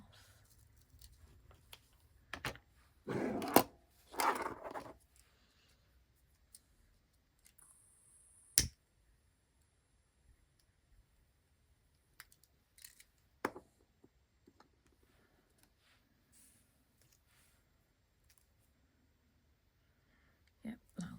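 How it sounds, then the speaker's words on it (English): Scissors snip craft material for a Christmas folio project in a few short, sharp cuts spread across long quiet gaps. Faint clicks and soft handling noises sit between them, and there is no talk. "Just snip a little bit off."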